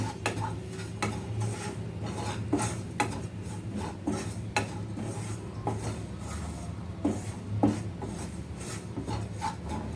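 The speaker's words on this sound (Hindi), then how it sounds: "इन सब मसालों को अब हम कर लेंगे मिक्स" A spoon scrapes and rubs through a dry spice mixture for a baked ragi kachori filling, making soft, steady rasping strokes with occasional light clinks, close and quiet.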